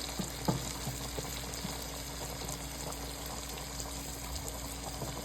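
Food frying gently in a pan, a faint, steady low crackle and hiss that holds evenly throughout with one small clink early on.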